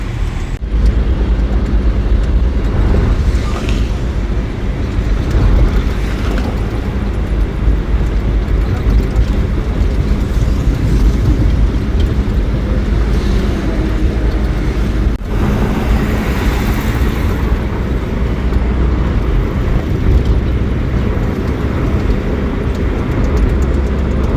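Steady, loud rumble of passing vehicles on a busy road in Mumbai, a continuous wash of engine and tire noise with no one speaking.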